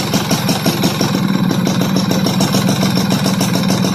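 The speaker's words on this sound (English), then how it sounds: "We're going to lean this thing out. Trying to get a high idle." A Mikuni-carbureted engine idles high after its mixture is leaned, holding a steady, rapid, even throb that stays loud and close for the whole stretch with no talk over it.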